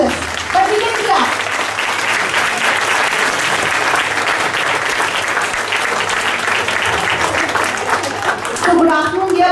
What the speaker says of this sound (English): But we can clap.